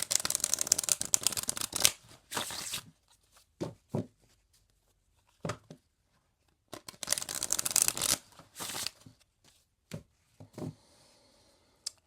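Oracle cards being shuffled and drawn, two long riffling bursts of card shuffling separated by scattered single card snaps and taps, close and fairly quiet with no talking.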